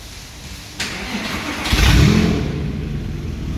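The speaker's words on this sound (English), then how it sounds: "So let's fire up the car and see what we think." A Porsche 911 997 fitted with a Valvetronic exhaust cranks and fires up, its engine catching with a loud, deep burst before settling into a steady, throaty idle.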